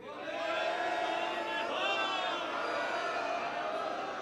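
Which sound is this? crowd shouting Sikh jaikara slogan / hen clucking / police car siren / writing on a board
crowd shouting Sikh jaikara slogan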